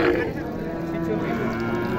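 A cow lowing at the traditional Dighirhat cattle market in Naogaon, one long close moo over a busy background murmur of the crowded market.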